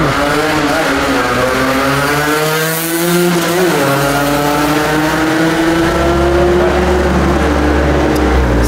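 Motorcycles roar past along a town-centre racing route, loud high-revving engines with rising and falling pitch as they sweep by close to the listener, continuous and dominant.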